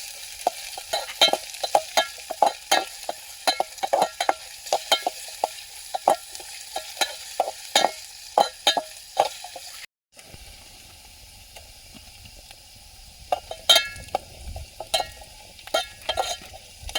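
Onions and green chilies sizzle and fry in a pan at a chicken cooking party, with repeated scraping stir strokes throughout and a brief cut partway through, no talking.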